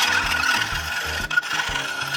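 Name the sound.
filing a metal blade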